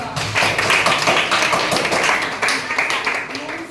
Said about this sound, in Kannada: ಮತ್ತೆ ಒಂದು ಚಪ್ಪಾಳೆ ಕೊಡ್ರಿ ಅವರಿಬ್ರಿಗೂ